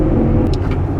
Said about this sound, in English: this is the Mustang with the loudish exhaust